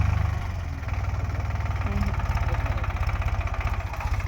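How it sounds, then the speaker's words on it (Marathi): A tractor engine idles with a steady low, thumping putter, close by and constant throughout, with no one speaking over it. "अरे उठ की ट्रॅक्टर आलाय"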